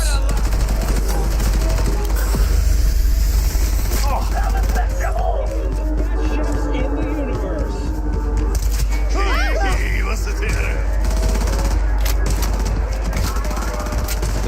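Shotgun blasts and gunfire in a video game shootout involving cops, with bursts of shots over steady game noise and a voice talking over the action.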